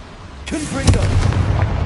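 A Confringo fire spell bursts with a sharp blast in Hogwarts Legacy, followed by a rumbling, crackling burn that stays loud for a second or so; a voice sounds faintly underneath.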